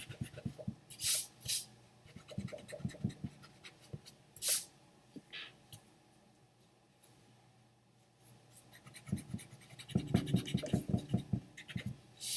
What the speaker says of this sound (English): So I can erase all these lines.